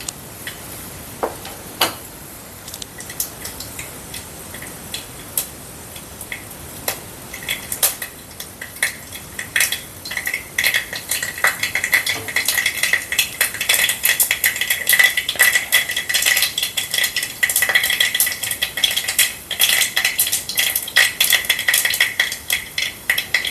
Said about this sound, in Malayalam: എണ്ണ ചൂടായിട്ടുണ്ട്. ആവശ്യത്തിനുള്ള കടുക് ഇട്ട് കൊടുക്കാം.